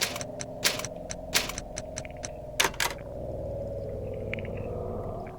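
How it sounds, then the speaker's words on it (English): Typewriter keys in a Resident Evil–style video game clack in a quick irregular burst of sharp strikes, a few louder hits among them, then give way to a low steady hum. "And yes, those are Resident Evil typewriter sounds"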